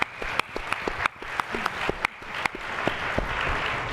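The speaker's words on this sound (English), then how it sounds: "That deserves a round of applause." Audience applause at a talk on equal pay with Megan Rapinoe, a steady wash of many hands clapping with sharp individual claps standing out, holding fairly level for the whole stretch.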